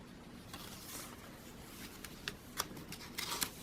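Paper samples from paper pads rustle and flap as they are handled in a junk journal, soft crinkling with a few sharper flicks toward the end, close and quiet with no talking.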